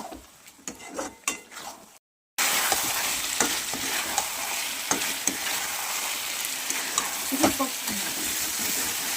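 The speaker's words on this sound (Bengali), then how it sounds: "তো এইবার আমি দেবো চিকেনটা এবার আমি ঢেলে দেবো, দিয়ে ভালো করে কষাতে লাগবে" Chicken is stir-fried with spices in hot oil that has already separated from the masala. After a brief silent gap, a loud continuous sizzle starts, with repeated scraping strokes of a spatula close by.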